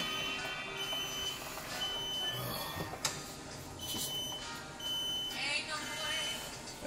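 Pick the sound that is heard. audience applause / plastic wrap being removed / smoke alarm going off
smoke alarm going off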